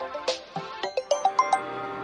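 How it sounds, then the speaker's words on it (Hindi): A mobile phone ringtone plays in a scene from a Hindi-dubbed South Indian action film, a short rising run of bright chiming notes, clear and close, with no talking over it. "बीच बीच में ये फोन आते रहते हैं।"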